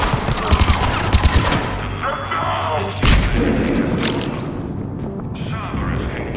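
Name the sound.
hostile machine gun fire in video game Mass Effect 3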